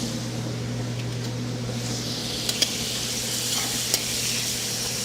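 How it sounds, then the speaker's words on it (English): Shrimp searing in a hot pan give off a loud, steady sizzle that hisses continuously, with a few faint clacks of a utensil and no talking. "The first thing we're going to do is just sear the shrimp"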